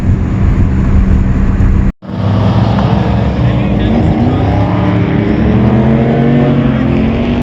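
Nissan Z31 car on a highway, a loud, close, steady engine and road roar with a brief dropout near the start, continuing unbroken through the rest.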